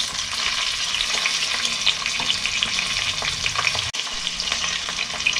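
Chopped tomatoes and garlic fry loudly in hot oil for a village-style mutton curry. The sizzle is dense and continuous, with constant crackle from stirring and one brief dip partway through.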